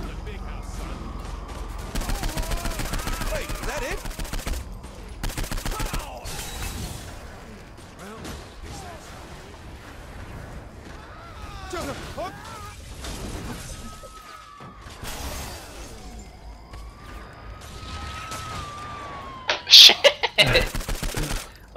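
Gunfire in Saints Row IV, bursts of shots and clattering impacts spread across the stretch, mixed with mechanical game effects and quieter gaps, with a voice talking now and then.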